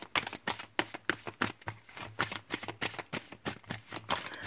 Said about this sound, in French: Je vais prendre quand même une autre carte ou deux.